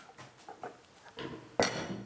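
Ceramic plates being set out on a home table for serving yakisoba, with a few soft knocks followed by one sharper, louder clink of dishware near the end.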